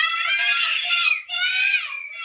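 Children shout together in loud, high-pitched, strained voices during an online kids' magic show, two sustained bursts with a brief gap between them.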